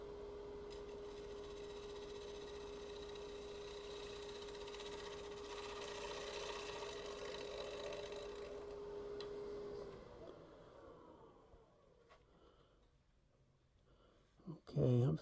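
A woodturning lathe spins a wooden winged bowl while a tool shear-scrapes it, producing a steady motor whine over a rough scraping hiss for about ten seconds before the machine winds down to quiet, with a brief knock at the end.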